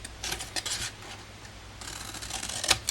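Scissors snip through card stock for a triangular paper gift box, giving a few faint, close cuts and rasping slides in a quiet room.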